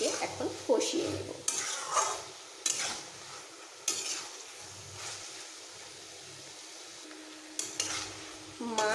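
Small fish and bottle gourd stir-fried in a pan, soft sizzling broken by sharp, regular clanks and scrapes of a spatula against the metal, close up.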